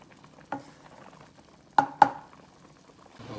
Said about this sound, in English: I'm gonna leave this top off for a while and let it just cook real good.